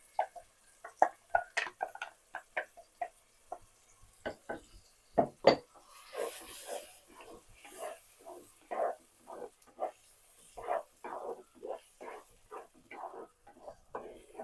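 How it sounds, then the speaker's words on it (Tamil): Ground paste sautéed with onions in a pan, heard as a run of distinct rhythmic clinks and scrapes of a spoon against the pan, fairly close and moderately loud, with little sizzle beneath. "அதுக்குள்ளே சேர்த்து நல்லா வதக்கிக்கலாம்."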